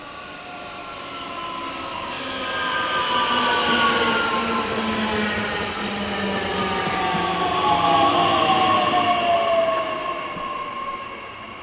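An Abellio Rail Mitteldeutschland electric train arrives from the east in Germany with a rising hum and whining motor tones, growing louder and steady as it passes close, then easing slightly.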